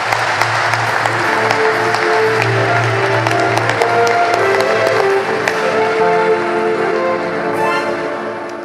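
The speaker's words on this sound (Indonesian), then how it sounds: "Mari kita beri tepuk tangan." Loud, continuous applause from a large audience at a Catholic synod opening ceremony in Jakarta, dense clapping under sustained musical tones, easing slightly toward the end.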